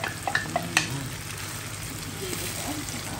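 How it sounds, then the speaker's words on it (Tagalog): Tomato paste with ginger and garlic sautés in a pan for chicken masala, a steady sizzle with a few sharp stirring scrapes early on, and voices speak briefly over it. "Gigisa lang natin."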